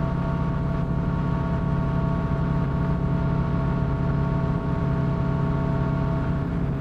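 A Yamaha MT-01 or V-Max motorcycle engine idles steadily nearby, a continuous low rumble with an even hum and no revving.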